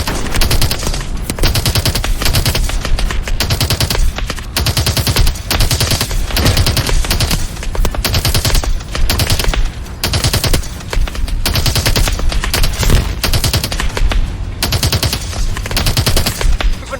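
Sustained, loud automatic gunfire from the shooter game Call of Duty Advanced Warfare, with dense rapid bursts rattling almost without pause across the whole stretch.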